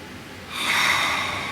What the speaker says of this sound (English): Please breathe.